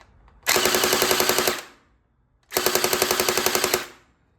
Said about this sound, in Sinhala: M4A1 එකේ සවුන්ඩ් එක බලමු.